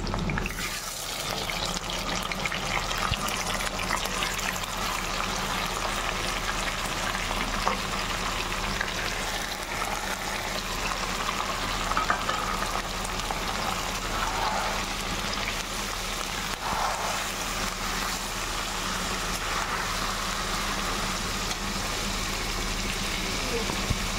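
Chicken coated in spice paste fries in a pan for a chicken chaap, giving a steady, dense sizzle like light rain that runs throughout, close and even, with a voice talking faintly over it.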